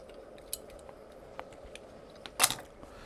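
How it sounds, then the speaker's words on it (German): A metal lid set onto a Trangia camping pot during outdoor cooking, giving a few light metallic clinks and then one sharper clatter near the end, close by with no talk. "Deckel drauf."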